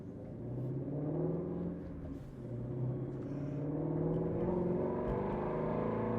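A 2020 Ford Mustang Shelby GT350R exhaust rumbles while driving, a deep, steady, close engine drone with gentle rises and dips in revs and no talking.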